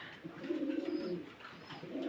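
Large breeding pigeons coo in one low, throaty, rolling call that swells and fades, close by and clear with no voices over it.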